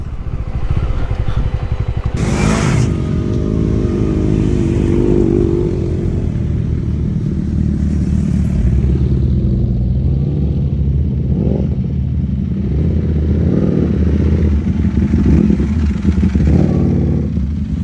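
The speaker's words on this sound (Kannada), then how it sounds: "ಸೂಪರ್ ಬೈಕ್ಗಳನ್ನೆಲ್ಲ ಆಫ್ ರೋಡ್ ಮಾಡ್ಕೊಂಡು" Superbikes ride off-road near a farmhouse, their engines rumbling and revving close by with rough clattering, loud and continuous for the whole stretch.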